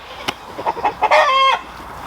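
A rooster crows loudly with a drawn-out, harmonic call, preceded by a few short clucks and squawks from nearby fowl.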